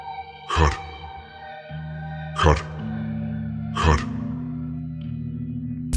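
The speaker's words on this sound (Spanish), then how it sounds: "Siento una necesidad incontenible de empezar a carraspear." Harsh throat clearing repeats three times at steady intervals, each a loud, raspy burst over a low sustained musical drone.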